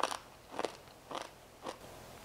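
Four crisp, crunchy bites into crispy fried moong dal, evenly spaced and close up, with no talking.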